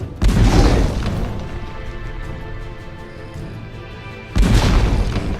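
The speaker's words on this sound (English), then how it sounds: "Blast them a couple of times with the cannon." Two heavy booming cannon blasts in the strategy game Age of Wonders III, one at the start and another near the end, with a low rumbling din lingering between them.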